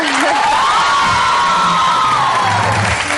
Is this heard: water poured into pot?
no